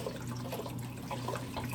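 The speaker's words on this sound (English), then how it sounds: "we're going to put our other carton of vegetable broth in." Vegetable broth glugs from a carton into a pot of vegetable soup, a short, steady liquid pour with soft burbling, heard close and alone.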